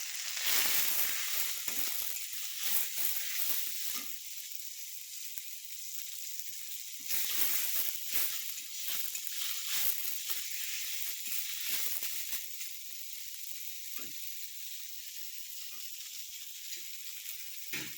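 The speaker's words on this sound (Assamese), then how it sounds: "এতিয়া কাটি ৰখা শাকখিনি তাতে দি দিম।" Chopped cauliflower leaves hit hot oil in a pan with a dried red chili, giving a loud, steady sizzle with bursts of crackle that settles into a softer frying hiss, no voices.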